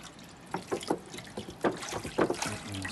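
A litre of water is poured from close by onto a grazed soil sample in a rain simulator, splashing and trickling in uneven bursts over about three seconds with no talk.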